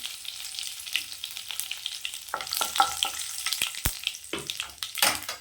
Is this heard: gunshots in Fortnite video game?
no